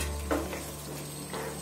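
Chopped tomatoes being stirred into cooking masala in a pan, a steady low sizzle under a brief scrape of the spoon, close and moderately loud.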